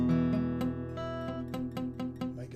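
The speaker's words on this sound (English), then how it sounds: "Might get that sound, which means my first finger is touching the 2nd string." Guitar chord plucked note by note with one string muted and buzzing where a fretting finger touches the second string; a rapid run of close, quiet picked notes with no talking.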